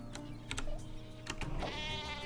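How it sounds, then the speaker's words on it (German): Sheep weapon in a Worms game bleating, several short loud bleats over a steady game backdrop with electronic tones. "Das Schaf aus der Hölle."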